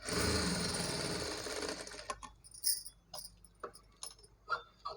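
A sewing machine stitches around a frock neckline made from a saree, running steadily for about two seconds, then stopping; light clicks and handling taps follow.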